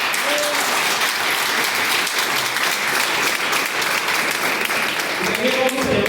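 Steady, dense audience applause at a conference in Perote, continuous clapping from many hands throughout, with a voice briefly heard near the end.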